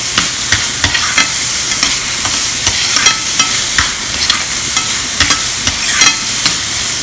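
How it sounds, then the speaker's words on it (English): Onions frying with salt in a pan for vegetarian cabbage rolls give a steady, close sizzle, broken by scraping stirs at fairly regular intervals, with no talking. "Half the salt I have already added into this, so that onion gets cooked faster."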